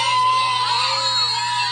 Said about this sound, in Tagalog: Kita ninyo ang crowd na yan?